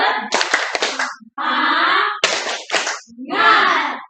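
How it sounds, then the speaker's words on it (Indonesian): A classroom of pupils performs a rhythmic group clapping routine, with bursts of brisk claps alternating with loud chanted voices in a fast call-and-response pattern. "mulai tepuk semangat"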